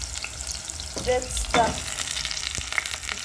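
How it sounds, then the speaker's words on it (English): Onions fry in a pan while being stirred for plantain preparation, a soft steady sizzle broken by a few scraping stir strokes near the middle, quiet and close, with a short spoken phrase at the start. "Stir our onions."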